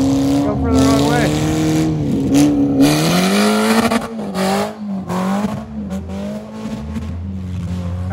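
A rally car's engine revs loud and close, its pitch climbing and falling in sustained roars with some tire squeal, while people talk over it.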